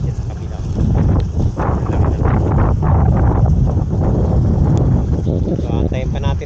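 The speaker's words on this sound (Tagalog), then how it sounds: "lumakas pa yung hangin." Strong wind buffeting the microphone in a steady, heavy roar at a fishing spot, with a voice speaking faintly underneath.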